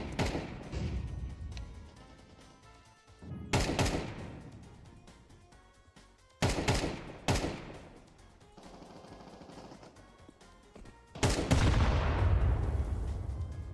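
Video game firefight: bursts of automatic gunfire and booming blasts come in waves, with loud rattling volleys separated by quieter stretches.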